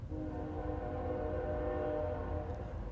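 A train rolls by steadily with a low rumble while a long horn blast sounds over it, continuous and fairly loud throughout.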